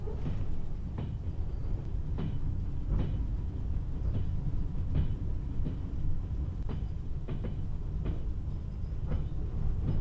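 A train runs in the Trans-Siberian Railway Simulator game, a steady low rumble with regular clacking rail joints ticking past about once a second.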